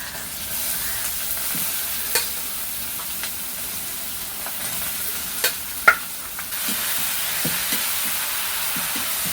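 Clams stir-fried with onion and tomato in a pan give a steady sizzle and hiss, broken by occasional scraping stirs and small pops.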